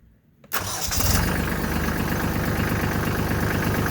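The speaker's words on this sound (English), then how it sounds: "Let me start it up one more time without me moving" Compact tractor diesel engine cranking briefly and catching, then settling into a loud, steady, rumbling idle close by, with no talking.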